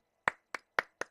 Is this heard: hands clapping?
yes